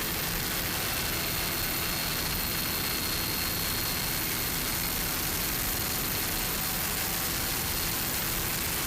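A Fountain 38 racing powerboat engine roars at a powerboat race, a loud, steady, broadband rumble that holds constant for the whole stretch without any voices.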